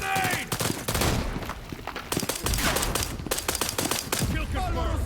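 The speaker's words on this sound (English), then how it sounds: "Shots fired. Shots fired." Chaotic gunfire in a shooter game, sharp rapid shots and bursts overlapping continuously at close range, with shouted voices mixed among the reports.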